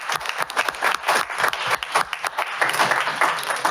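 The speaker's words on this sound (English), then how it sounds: "Can we just give them a round of applause?" Applause from the audience at a Cleveland Heights city council meeting, a steady patter of many hands clapping close by that carries through the whole stretch without letting up.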